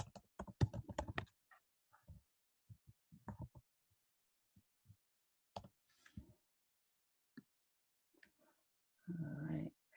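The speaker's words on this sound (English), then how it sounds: "let me type that" A computer keyboard being typed on during a math lesson, with quick bursts of clicks early on, then sparse, scattered single taps, all fairly quiet and close, ending in a short rush of noise.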